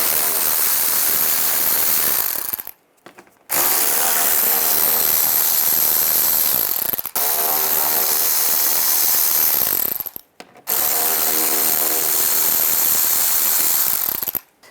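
Ratcheting 7mm socket wrench backing out fog light cover screws from underneath a 2010-2017 Chevrolet Equinox, loud fast clicking in four sustained bursts separated by brief pauses, close up with no talk.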